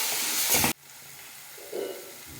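Coriander, green chilli and ginger paste hit a hot pan with a loud burst of sizzling hiss that quickly cuts off, followed by a quieter simmering sputter and a faint stir.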